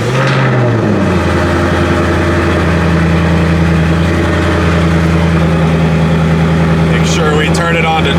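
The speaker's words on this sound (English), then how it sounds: "I'm going to give you guys a cold start, let you hear those crispy twin turbos" A twin-turbo Ford Mustang S650 fires up from cold, its engine catching with a quick rising roar and then settling into a loud, steady, rumbling high idle with a faint whine on top, very close and continuous.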